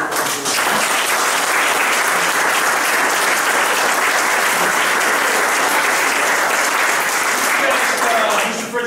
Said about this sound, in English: So I really want everyone to give the families a round of applause